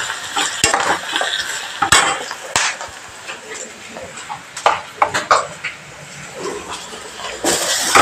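A spoon scrapes and clanks against a pan while stirring onion with turmeric, pepper powder and garam masala for a potato curry, giving irregular sharp clinks over a soft background.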